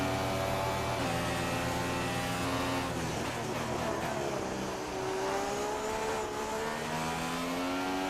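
A Formula 1 race car engine in F1 2016 screaming through acceleration, a loud, steady high-pitched whine that climbs in pitch, drops briefly with a gear change, then rises again.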